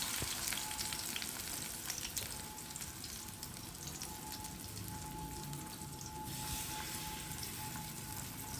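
Chicken stirred and browning in a pan makes a steady, dense sizzle that runs the whole time, with light scrapes of stirring now and then. Nearby and even in level, no one speaking.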